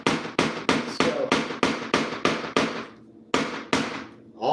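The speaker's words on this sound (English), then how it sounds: "I'll hammer that one almost all the way down to the head so it's spread out" Glazing nails are hammered into a cheap homemade wooden window frame, ringing out as a steady series of sharp, close, loud blows, about ten in all, with a short pause before the last two.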